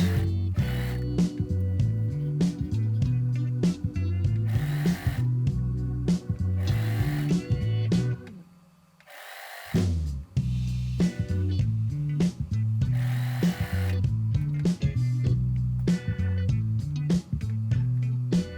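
A sewing machine stitches fabric for a scrunchie in rapid, loud mechanical bursts of clattering needle strokes, with a short pause near the middle before stitching resumes; no voices.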